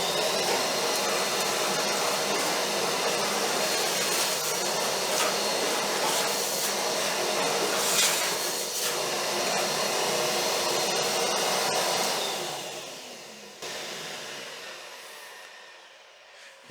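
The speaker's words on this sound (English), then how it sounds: "I'm just going to give it a quick vacuum." A vacuum cleaner sucks up ash from a pellet heater, a steady loud whooshing roar running continuously before winding down toward the end, with no talking.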